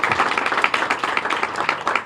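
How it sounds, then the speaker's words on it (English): Audience applause fills a press conference held by a U.S. senator, a steady dense patter of many hands clapping throughout at moderate loudness with no one speaking over it. "you can clap for that. You deserve it."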